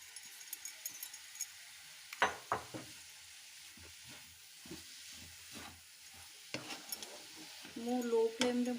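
Semolina roasts in a pan over a low flame for a sooji snack, a faint, close dry sizzle marked by scattered scraping stir strokes, with a brief murmur of talk near the end.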